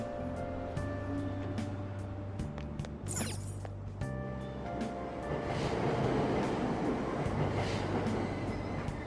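Subway train departing a Tokyo station in Persona 5 Royal, its motor whine rising and the steady rumble of the cars building into a broad rushing roar, with faint clicks along the track.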